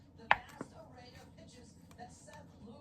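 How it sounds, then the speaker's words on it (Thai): A sharp knife chop on a board as chicken breast is cut into strips, then a softer second one, with faint quiet talk and light kitchen noise underneath. "ก็เราต้องมาหั่นเป็นชิ้นๆ ก่อนนะคะ"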